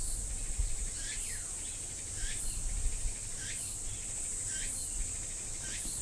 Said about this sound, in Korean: 매미 소리가 들리잖아요